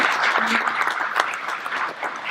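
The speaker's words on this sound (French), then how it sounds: "Un grand applaudissement, s'il vous plaît." An audience at a French corporate presentation applauds steadily and densely, a full sustained round of clapping with faint voices underneath.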